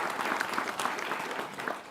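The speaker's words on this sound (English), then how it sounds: "Let's give them a round of applause." Steady applause from an audience at a university groundbreaking ceremony for a student-athlete performance center, a short dense burst of clapping at moderate distance.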